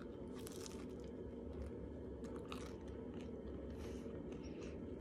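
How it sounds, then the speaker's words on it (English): Close-up crunching and chewing of crunchy pizza crust, a series of crisp bites and grinding chews repeating over about five seconds against a dense low rumble, with no talking. "The crust has got a good crunch"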